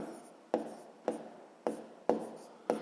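A pen writing math on paper, five evenly spaced scratchy strokes about half a second apart, each starting sharp and trailing off, close and fairly quiet with no voices.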